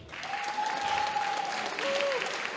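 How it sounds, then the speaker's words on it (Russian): Applause from the crowd at a WWFC 18 title fight, fairly distant and even throughout, with a whistle-like tone cutting through twice above the clapping. "Аплодисменты ему."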